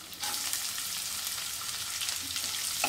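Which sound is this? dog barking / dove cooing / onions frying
onions frying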